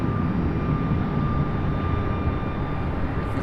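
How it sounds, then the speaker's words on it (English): An American Airlines Boeing 737 at Raleigh-Durham International Airport, heard as a moderate, continuous jet rumble with a faint high whine, steady and without talk. "There goes that American 737."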